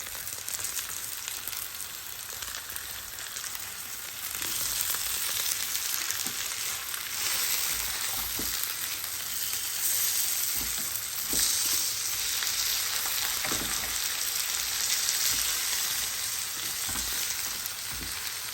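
Onions fry in a pan with green chilies, giving a steady close sizzle and crackle that swells slightly midway, with faint stirring scrapes and no talking.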